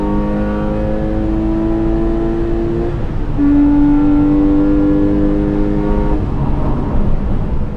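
A lightweight Porsche 997 C2S accelerates hard on a race track, its engine note loud and steady, climbing through the revs, dropping briefly at a gearshift around three seconds, then rising again without any talk.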